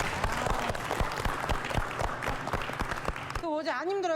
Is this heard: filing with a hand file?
no